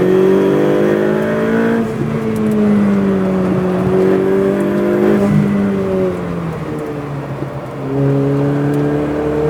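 Ferrari 488 Pista on a race track, its engine loud and close as it downshifts, with a steady high-revving tone whose pitch drops and climbs through gear changes, continuous for the whole stretch.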